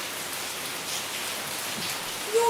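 Heavy rain pours down during a hurricane, a steady dense hiss of water hitting surfaces that fills the whole stretch without a break, loud and close.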